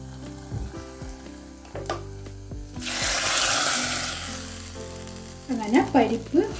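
A hot tempering of shallots, garlic, dried red chillies and curry leaves is poured into a dal and banana stem curry. It hits with a sudden loud sizzle that gradually dies down, followed by a few clanks and stirring.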